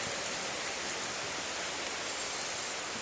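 Steady rainfall at a village bull ashram in Amreli district, a continuous soft patter and hiss of drops on surfaces, fairly quiet and uninterrupted, with nobody speaking.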